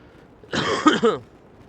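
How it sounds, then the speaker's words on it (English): A single short, raspy cough close to the microphone, with quiet room noise before and after. "Sorry about the cough"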